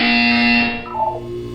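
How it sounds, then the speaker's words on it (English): A harsh electronic buzzer from the Portal 2 video game sounds once for about half a second, loud and steady, then fades into a quieter, lingering tonal hum of game ambience. "When you hear the buzzer, look down at the floor."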